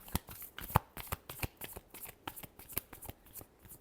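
Tarot cards being shuffled by hand, a rapid run of crisp, close riffling slaps and flutters in an irregular rhythm, heard alone without talk.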